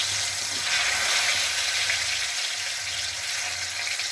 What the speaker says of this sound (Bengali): আমি এবার একটু একটু করে ছোলার ডালগুলো সব দিয়ে দেবো, দিয়ে ভালো করে ভেজে নেব।